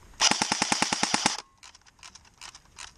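An airsoft gun fires a rapid burst of about a dozen sharp, snappy BB shots in quick succession, close by, followed by quieter scattered clicks and rattles.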